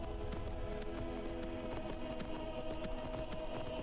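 Horse hooves gallop across open ground in Skyrim, a steady rapid clip-clop rhythm running throughout at a moderate distance, softly layered over game ambience.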